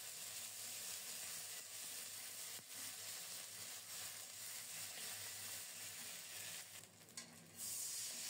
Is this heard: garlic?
yes